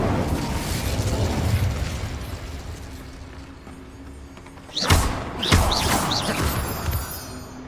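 An Incendio fire spell is cast in Hogwarts Legacy: after a steady low rumble, two sharp, loud bursts arrive close together with whooshing flare-ups, followed by crackling fire and mechanical clatter, with no voices.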